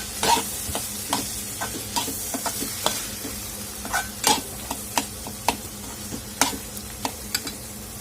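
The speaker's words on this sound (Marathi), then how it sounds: "आपण इथे शेंगदाण्याचं कूट घालून घेणार आहोत आणि छान याला मिक्स करून घ्यायचं आहे आपल्याला" A spoon stirs ridge gourd curry with crushed peanuts in a pan, Solapur-style kandavani bhaji: a string of sharp scraping taps at an uneven rhythm over a soft, steady sizzle, close and with no talk.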